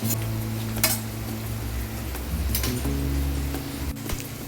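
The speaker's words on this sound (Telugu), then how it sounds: "ఇలా ఇంకాసేపు ఫ్రై అవ్వాలండి" Sliced bitter gourd frying in hot oil in a pan for a crispy dish, a steady low sizzle with a few sharp scrapes and clinks of a utensil against the pan, close and continuous.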